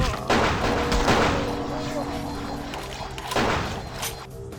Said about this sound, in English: I want to try out his gun.